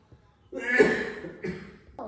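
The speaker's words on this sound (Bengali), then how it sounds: "দেখছো দাদু কত কাশছে?" A grandfather with a cold coughs in a short burst of harsh, rough coughs, close and fairly loud, after a quiet moment, with a voice or two murmuring nearby.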